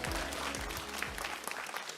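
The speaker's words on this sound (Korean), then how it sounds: "박수 부탁드리겠습니다." Audience applause at a Democratic Party political concert event in Daegu–Gyeongbuk, a short burst of steady hand clapping from a moderate crowd, fading out at the end.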